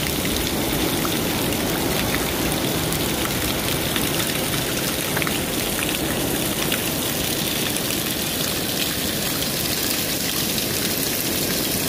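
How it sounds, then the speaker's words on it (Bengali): Heavy rain pours steadily near a seaside hotel by a lighthouse, a dense unbroken hiss of drops drumming on surfaces at constant loudness throughout, with no voices. "প্রচন্ড বৃষ্টি হচ্ছে, এই যে পুরো জল ঢল জমে গেছে।"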